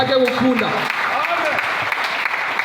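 A church congregation breaks into applause during a service, a steady burst of clapping with voices and singing mixed in over it.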